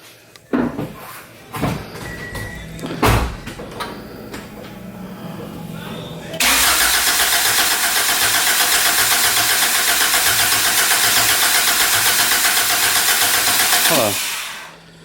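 A Honda B16B Type R engine swapped into an EG Civic cranks and catches, then settles into a loud, steady idle that runs for several seconds before shutting off, after a few clunks and brief talk at the start.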